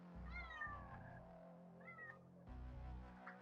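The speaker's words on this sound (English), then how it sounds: "you can probably hear her going, meow, meow" A cat meows repeatedly at a window from outside, perched on a window air conditioner unit; two or three clear, drawn-out meows stand out over a steady low hum.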